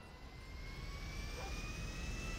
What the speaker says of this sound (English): now we are leaving with a plane, with a jet to be more precise, to Vice City